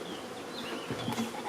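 A handful of honey bees drone softly inside a nearly empty hive super, a faint, continuous buzz with slight wavering pitch and no voices.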